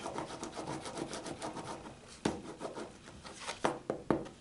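Paper being burnished onto a box, close soft rubbing strokes in a quick rhythm, then several sharp taps near the end.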